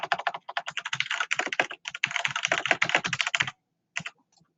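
Fast, steady typing on a computer keyboard, close and clear, with a dense run of key clicks that pauses briefly and ends in a few scattered taps.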